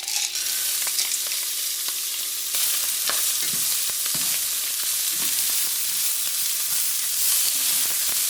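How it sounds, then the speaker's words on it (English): Frozen peas stirred into fried rice with andouille sausage in a hot pan, a steady close sizzle and frying hiss with scattered stirring scrapes and clicks, louder after a sudden burst partway through. "We're going to add a half cup of frozen peas."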